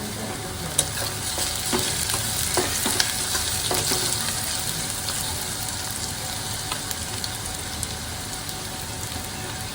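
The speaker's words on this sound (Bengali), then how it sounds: "এখানে আমি পেঁয়াজটা ভেজে নেব" Onions fry in a pan with a dense, even crackle like light rain, broken by a few sharp stirring clicks. It is close and steady, with no voices.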